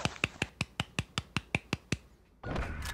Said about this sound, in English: I like that golf clap